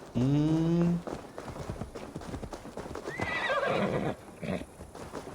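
In the video game Assassin's Creed Valhalla, a horse lets out a loud, close whinny, then gallops with rapid, steady hoofbeats that fade and return in bursts.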